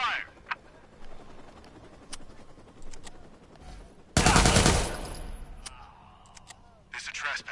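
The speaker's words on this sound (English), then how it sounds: "Squad, you've got shots fired." Gunfire crackles in a video game, with scattered single shots, a dense burst of rapid fire in the middle and another quick volley near the end, and voices talking in between.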